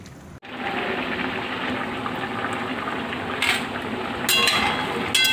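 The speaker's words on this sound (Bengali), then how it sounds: "এখন টমেটো চাটনিটা বসিয়ে দিয়েছি" Tomato chutney cooks in a pan for a coriander chicken dish, giving a steady close simmer and sizzle with a few brief clinks partway through and no talking.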